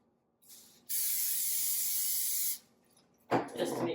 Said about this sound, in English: we're going to spray our pie plate.